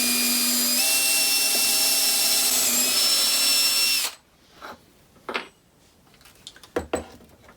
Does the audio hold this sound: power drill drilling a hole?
yes